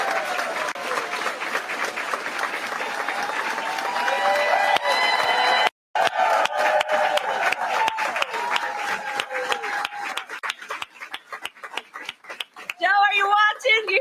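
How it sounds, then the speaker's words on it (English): A crowd at a campaign headquarters claps loudly and continuously, dense applause with occasional cheers, dipping briefly and swelling again while a voice speaks over it. "You hear this clapping?"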